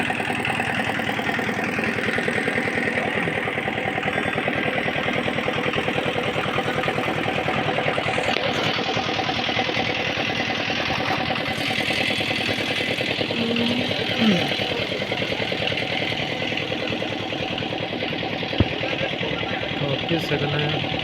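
A motorbike engine idles steadily at a Bharat Petroleum pump in Rasulpur Bazar on Bankura Road, a constant mid-pitched drone with nearby voices talking over it and the hum of the fuel forecourt.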